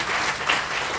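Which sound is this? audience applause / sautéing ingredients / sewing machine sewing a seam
audience applause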